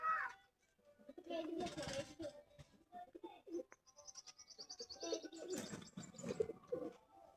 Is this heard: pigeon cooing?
yes